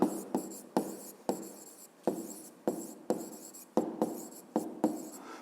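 Pen or pencil writing down an answer on paper in quick repeated strokes, each a short scratchy burst followed by a pause, close and clear with no voices.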